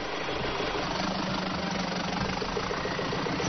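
A rainforest rally off-road race car engine idles and creeps slowly toward a steep cliff face, a steady, heavy, vibrating rumble with a knocking texture, loud and continuous.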